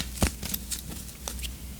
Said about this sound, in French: on va tirer une carte oracle